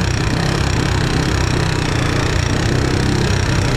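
A motorcycle engine churns steadily while riding through floodwater, a loud, continuous close-up drone with dense low rumble and broadband wash and no pauses.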